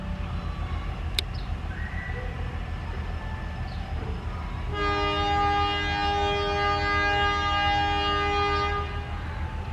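A train horn sounds steadily at Cibatu station, Indonesia, a sustained chord with a loud idling locomotive engine rumble underneath and brief clanks before it starts.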